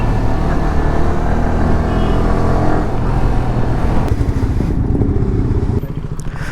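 A Yamaha R15 motorcycle engine drones steadily and loudly on a ride to Madikeri, a continuous rumble with wind buffeting throughout.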